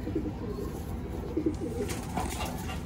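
African Black Eagle pigeons coo softly at close range, a few low, rolling calls in short bursts against a quiet background.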